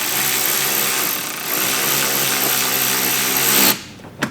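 Power drill driving a mud flap screw on a 2022-2024 BMW X3 M, a loud steady whir for several seconds that stops abruptly, followed by a brief click.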